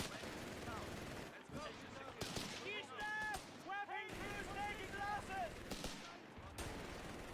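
Machine gun fire from Company of Heroes 3 keeps up a steady rattling barrage under busy battlefield noise, while game voices and radio callouts talk over it throughout.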